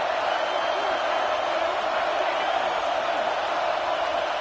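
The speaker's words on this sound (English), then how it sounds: "This crowd bringing an ear-splitting welcome to their visitors." A packed football stadium crowd at a Fresno State game roars in a dense, continuous wall of cheering and whooping, loud and unbroken for several seconds.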